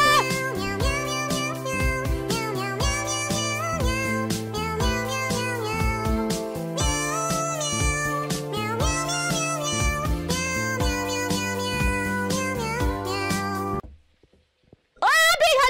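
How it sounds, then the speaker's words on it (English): Cat meows over music during a Phasmophobia game stream, repeated mewing cries running through a loud, busy backing track that cuts off abruptly near the end. "Couldn't hear it over the cat meowing."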